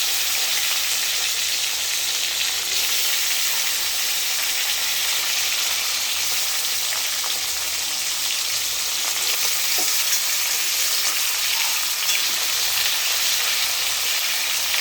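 Salted, turmeric-coated fish frying in a pan gives a constant, dense sizzle with faint crackles, steady and close for the whole stretch, with no voices.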